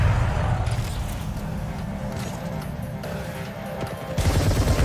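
Gunfire in the Apex Legends video game, with dense rapid bursts of shots continuing steadily through the whole stretch and growing louder near the end, set against a busy game soundscape.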